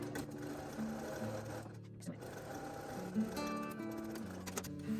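A sewing machine top-stitches a washable fabric zipper bag, whirring in close, steady bursts with a short pause partway through.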